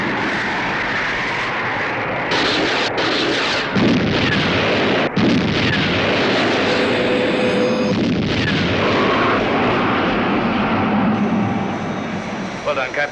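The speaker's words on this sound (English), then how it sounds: "Missile launch" A missile launch aboard a craft in the UFO TV series: a dense, sustained roaring rush with sharp bursts and whooshes, loud and continuous throughout, with radio-style voices and electronic tones cutting in over it.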